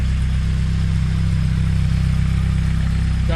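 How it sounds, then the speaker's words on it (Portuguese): A Triway tricycle's 2.0 gasoline engine runs at a steady idle close by, a loud, even, low throbbing drone that holds without change. "Tô gravando aqui o meu triciclo, que um amigo quer ver o funcionamento"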